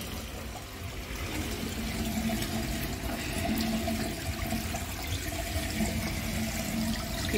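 Water running steadily over used tea leaves being rinsed in a sink or container, a continuous close splashing flow that holds at an even level throughout with no talk.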